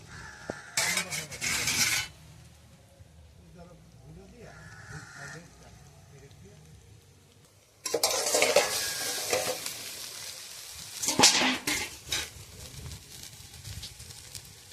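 Fish frying in a pan over a wood-fired stove, its sizzle rising in bursts then settling into a louder, crackling spell, with a goat or sheep bleating nearby and brief voices.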